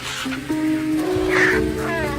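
Vultures squabble over a kill on the African savanna, harsh croaking caws and squawks rising over a steady close, loud background of birds.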